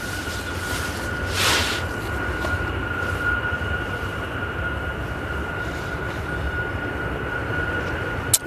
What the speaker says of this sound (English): this Jet 2's off to Catilla. It's a 737.